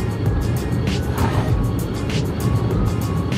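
A 2004 carburetted Suzuki Karimun car engine revs up under acceleration, a loud continuous low drone with rising intensity heard from inside the cabin, with faint background voices.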